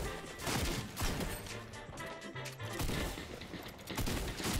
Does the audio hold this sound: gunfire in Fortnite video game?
yes